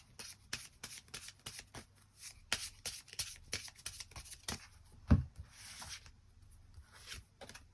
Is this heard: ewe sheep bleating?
no